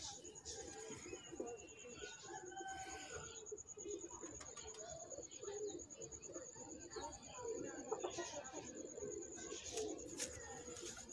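A Teddy pigeon coos in low, soft, repeated phrases, quiet and close, with someone talking over much of it.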